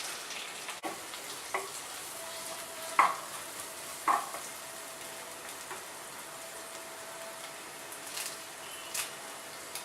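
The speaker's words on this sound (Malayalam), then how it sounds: "ഇഞ്ചി വെളുത്തുള്ളിയുടെ പച്ചമണം മാറുന്ന വരെ നന്നായിട്ട് വഴറ്റാം" Ginger and garlic sautéing in a pan for a Kerala-style pork roast, a soft steady sizzle broken by several scraping stirs and light clinks.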